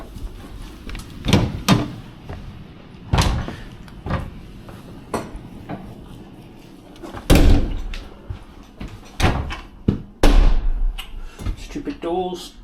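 Piccadilly line train doors at Northfields depot, with repeated sharp clunks and thuds of doors opening and closing at irregular intervals, fairly close, amid background hum and occasional voices.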